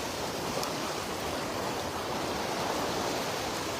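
Floodwater overflowing a canal near a police station rushes in a steady, dense roar of pouring water, loud and close, continuing without a break.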